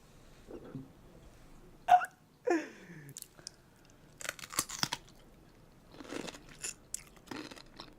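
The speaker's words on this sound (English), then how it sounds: "I love that crunch." Crunchy food being chewed close up, several separate bites and crunches spaced irregularly over quiet pauses, with a sharp hiccup-like sound among them.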